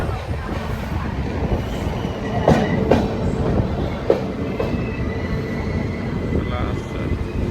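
The Prasanthi Express pulls into Palasa railway station, its carriages rumbling and wheels clattering close by in a steady roar, with a few sharp metallic clanks and squeals and faint voices underneath.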